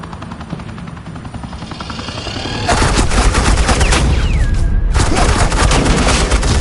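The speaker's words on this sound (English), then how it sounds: "suppressing fire." Suppressing gunfire in Batman: The Telltale Series, a loud continuous barrage of rapid shots over a steady helicopter-like drone that thickens and grows louder partway through.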